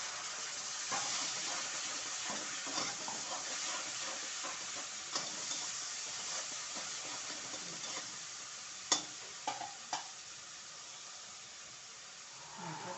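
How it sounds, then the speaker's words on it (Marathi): Onion paste fries in a pan for matki usal, with a steady sizzle throughout and a few sharp stirring scrapes and clinks near the end, with no one talking. "त्याच्यातच मी एक कांदा पेस्ट केलेला आहे त्यातला अर्धा मिनिटात टाकते"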